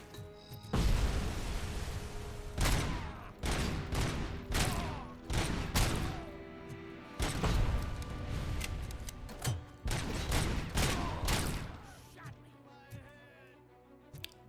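Grenade blasts and heavy gunfire in the video game Robocop Rogue City, dense bursts of shots and booming explosions in waves, loud and close, with brief lulls between volleys.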